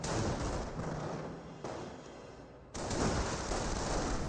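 Gunfire during a Company of Heroes battle, a dense steady roar of mixed shots and distant battle noise that runs continuously with brief shifts in level.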